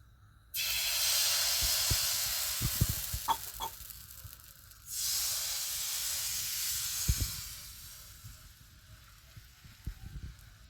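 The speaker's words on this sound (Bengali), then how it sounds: "এখন আমি কড়াইয়ে গোলাটা দিয়ে দেবো।" Rice-flour batter for patishapta poured into a hot oiled wok gives a steady close sizzle and hiss that surges twice, with small clatters of utensils and no talk.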